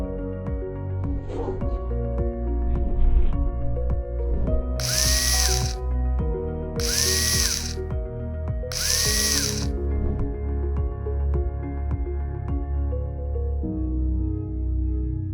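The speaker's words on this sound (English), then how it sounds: "aluminium vertical tube profiles will be fixed to all brackets using stainless steel self-drilling screws, hexagon head" Three short, loud bursts of a power drill whirring, about two seconds apart, driving stainless steel hex-head self-drilling screws into aluminium tube profiles, over a steady busy background of other machinery and clatter.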